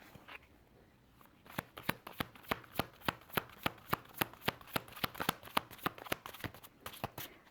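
Tarot cards being riffled and shuffled in a steady rapid run of crisp snapping clicks, close and fairly quiet, with no voices over them.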